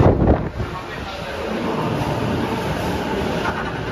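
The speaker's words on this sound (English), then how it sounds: "Sitting on the local train, paid like 170 yen" Steady low rumble of a local train rolling along, heard inside the carriage in Japan, broadband and constant, with a brief louder burst at the start.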